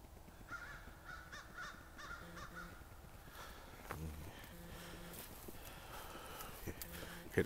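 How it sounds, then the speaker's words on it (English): Crows calling in repeated caws during a mountain hike, moderately distant over outdoor ambience with footsteps and a brief voice. "Hear the crows."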